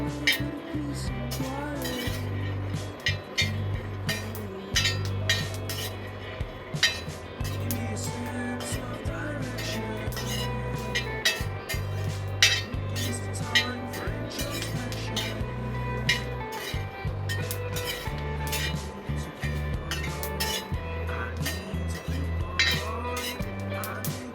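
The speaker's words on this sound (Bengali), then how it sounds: "আমার বাদামগুলো প্রায় ভাজি হয়ে গেছে, আর সামান্য কিছু সময় ভাজি করে নিব।" Peanuts dry-roasting in a pan for a jaggery peanut butter, stirred steadily with clinking, scraping utensil strokes against the pan, continuing under a person's voice throughout.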